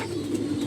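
Racing pigeons coo in a low, throaty burr, close and fairly loud, in a brief sustained call with no talk.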